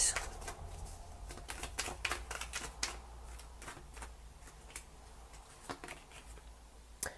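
Tarot cards being handled and drawn from a deck give a series of quick, crisp clicks and shuffling taps, close and quiet, with no talk over them.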